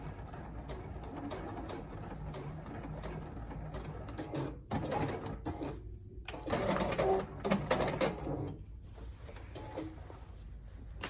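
Sewing machine back stitching the waist seam of men's slacks, a steady mechanical whir running continuously with some bird cooing faintly in the background.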